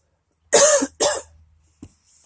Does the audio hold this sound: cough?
yes